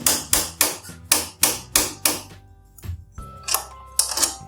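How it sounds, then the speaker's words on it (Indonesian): Sharp metallic taps ring out as a rear shock absorber is knocked into place on a Jupiter Z1 motorcycle: a rapid run of about eight evenly spaced close knocks, a brief pause, then a few more spaced taps. "Tinggal coba digetok-getok aja. Nah, digetok-getok seperti ini. Getok pelan aja."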